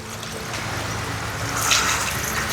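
Water pours into a cooking pot holding mutton paya (goat trotters), a steady broadband rush of liquid filling the pot, growing slightly louder toward the end with no voices over it.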